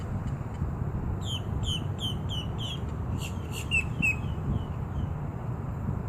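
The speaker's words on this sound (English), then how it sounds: "you see how there are so many different, like, birds?" Several birds in a wetland chirp in short, quick bursts over a steady low outdoor hum. The calls are moderately distant and cluster in a few seconds of repeated tweets before fading.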